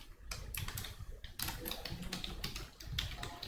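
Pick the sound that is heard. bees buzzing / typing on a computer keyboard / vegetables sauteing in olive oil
typing on a computer keyboard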